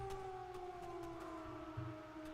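A siren in the zombie video game Zompiercer wails with steady tones and a slow downward drift, continuous and moderately loud over a low rumble and a few faint clicks.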